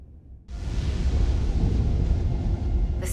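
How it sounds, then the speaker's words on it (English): Storm rumbling in the Star Trek Resurgence video game, a sudden loud, low roar of wind and rumble that sets in after a brief quiet moment and holds steady to the end. "The storm is getting worse."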